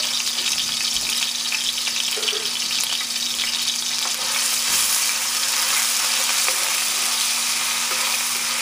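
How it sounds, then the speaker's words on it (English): Ginger and garlic fry in a pan for Pad Thai, giving a steady, close sizzle that runs unbroken from start to finish with no talking. "So I'm just going to put some ginger and garlic in here and let this kind of cook up just a little bit"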